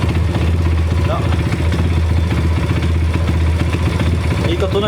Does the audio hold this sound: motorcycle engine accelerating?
yes